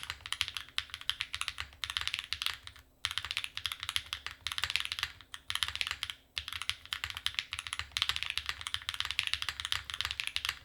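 Someone types at a slow pace on a custom mechanical computer keyboard. The key clacks come close and clear in steady bursts with brief pauses between them, and a faint hum runs underneath.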